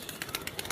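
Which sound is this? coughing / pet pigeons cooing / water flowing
pet pigeons cooing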